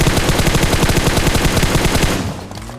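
Rapid automatic gunfire from a glider in a mobile battle royale game rattles loudly in a dense burst, then cuts off, leaving a low engine drone.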